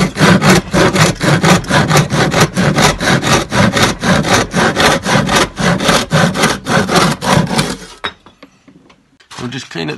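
A hand saw cutting timber on a bench hook, with a rapid, even rhythm of about thirty rasping strokes close by that stop near the end, followed by quiet handling sounds.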